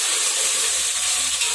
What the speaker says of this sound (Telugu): ఆనియన్స్ వేసుకొని ఇలా గోల్డెన్ కలర్ వచ్చిన తర్వాత టమాటా వేసుకొని